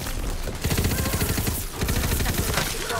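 Dense rapid-fire gunshots from a weapon in Tiny Tina's Wonderlands, a loud close stream of rattling shots that barely pauses across the whole stretch.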